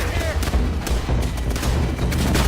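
Video game battle gunfire crackles in rapid, overlapping bursts with deep thumps, loud and continuous, mixed with faint voices in the background.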